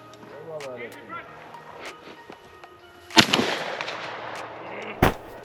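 Two sharp shotgun blasts ring out while dove hunting outdoors in Jamaica, one near the middle and one near the end, amid background voices and rustling movement.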